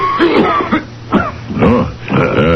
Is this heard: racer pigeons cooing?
no